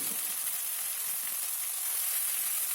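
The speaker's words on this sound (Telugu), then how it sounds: "బచ్చల కూర వేసి మంచిగా కలపాలండి" Malabar spinach (bacchali kura) stirred into a hot pan, giving a steady bright sizzle and hiss that holds evenly throughout, close up and with no talking.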